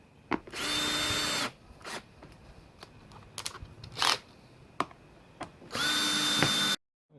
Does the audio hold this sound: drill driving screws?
yes